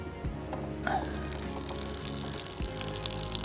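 Water gushes and splashes out of a Mowrator S1 robotic lawn mower being cleaned, a steady close pouring wash with a few knocks and clunks.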